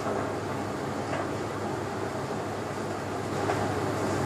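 A repaired clothes dryer tumbles a full load, giving a steady low rumbling hum with faint soft knocks, constant and close throughout.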